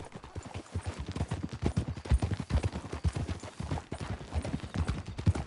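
Hooves clip-clop in a fast steady gallop in Red Dead Redemption 2, loud rhythmic thuds from a ridden horse continuing for several seconds with no speech over them.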